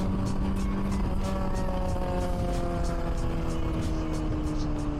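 A Honda CBR600RR motorcycle cruises along quiet roads in low traffic, giving a steady, continuous engine drone with wind rush that holds an even level throughout.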